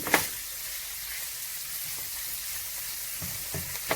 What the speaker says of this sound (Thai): อืมก็ผัดให้ ใบโหระพา สุกก่อนนะจ๊ะ